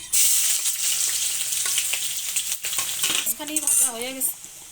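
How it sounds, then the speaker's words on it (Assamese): Chopped onions frying in oil in a kadai, a bright crackling sizzle with metallic scrapes and clinks of a spoon stirring against the pan, close and lively. "পিঁয়াজখিনি ভাজা হৈছে"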